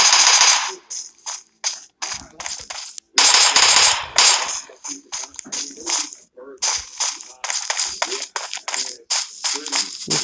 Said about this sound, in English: Oh, somebody else shooting.